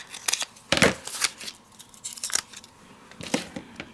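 Scissors snip through a chunk of Dollar Tree craft material in a few close, sharp cuts with rustling between them.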